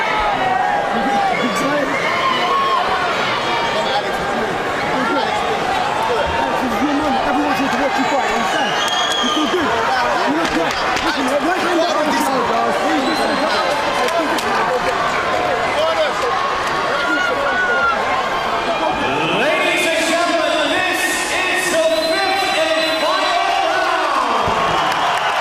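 Loud arena crowd roaring and cheering between rounds of a BAMMA MMA title fight, continuous dense noise with an excited commentator and corner voices talking over it.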